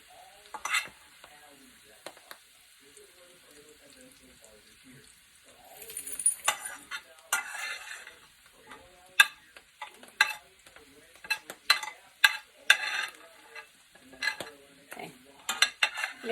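Butter sizzles and fries in a pan while a spoon stirs and scrapes, with intermittent clinks of metal against the pan, for a barley and mushroom dish; quiet stretches give way to louder bursts of stirring.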